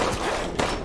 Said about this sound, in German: Na, endlich einmal einen mit einem Schuss erwischt.